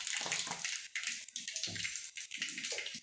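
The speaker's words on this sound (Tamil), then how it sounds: "இப்போ கடுகு தெரிச்சிருச்சு" Mustard seeds crackle and splutter in hot oil while cooking drumstick leaf stir-fry, a dense hissing, popping sizzle that runs continuously with brief lulls.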